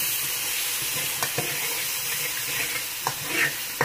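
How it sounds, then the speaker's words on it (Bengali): Shrimp frying among spices in a pan for a Malabar spinach and pumpkin dish: a steady hiss of sizzling oil under intermittent scraping stirs and light clinks, close and moderately loud. "মশলার জাস্ট গন্ধটা চলে গেলে আমি এটার মধ্যে এখন চিংড়ি মাছটা দিয়ে দেবো"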